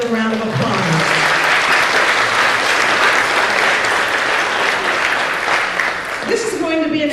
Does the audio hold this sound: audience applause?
yes